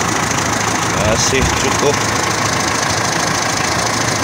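A Toyota 7K 1.8 engine idles in a 1995 Kijang Grand Extra with the hood open, giving a loud steady rumble with a faint knocking texture while someone speaks over it.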